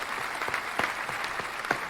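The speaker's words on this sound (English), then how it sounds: "Can I just get a round of applause for that absolutely W editing by me?" Thin, quiet applause from a small group, a handful of scattered claps rising and falling over two seconds with no voices.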